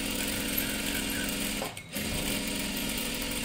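Sewing machine stitching a dress seam runs with a loud, steady mechanical whir. It pauses briefly partway through, then resumes.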